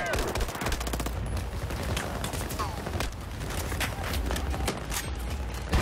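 Battlefield 4 gunfire in the Singapore mission: dense, rapid bursts of automatic rifle and machine gun shots, loud and close, carrying on almost without a break, with scattered voices under the shooting.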